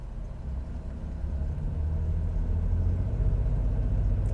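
A vehicle fitted with a brake line lock system, with the passenger tire locked, drives forward; a low, steady engine rumble builds slightly and stays close.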